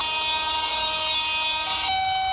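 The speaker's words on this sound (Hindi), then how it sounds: "हॉर्न दे दिया हमने।" A steady, loud tonal horn from a train in the Indian Train Simulator game, sounding the double decker express as it sets off, held for about two seconds before the pitch drops slightly near the end.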